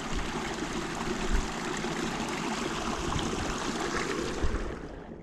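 Creek water flowing near a drained beaver pond, a steady, full rushing and trickling sound close by, continuous without talk.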